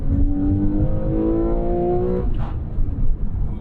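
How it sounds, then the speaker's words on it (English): A Porsche 911 Carrera 4S drivetrain with an aftermarket shifter grinds going into third gear: a steady engine drone with rising harmonic tones that cut off, then a brief rough mechanical crunch and hum as the shift lands. "A little grind going into the third."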